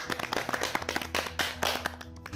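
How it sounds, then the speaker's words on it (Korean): A few people clap briefly at a meditation expo session, giving short scattered claps over a low hum, fairly close and not very loud. "저절로 박수가 나오네요."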